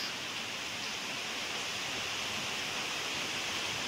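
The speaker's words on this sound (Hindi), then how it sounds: "बारिश आ रही है, देखो जी।" Steady, dense evening rainfall hissing continuously throughout, a broad even wash of sound with no voices.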